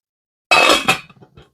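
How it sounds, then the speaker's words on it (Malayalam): A metal lid clanks down onto a pan of green chillies being wilted, giving one loud clattering impact, a second knock and a few small rattles as it settles. "ഒന്ന് മൂടി വയ്ക്കാം."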